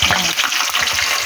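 Vegetables frying in hot oil in a home kitchen, a loud continuous sizzle with sputtering splatter and a few soft stirring knocks, close up and without talk.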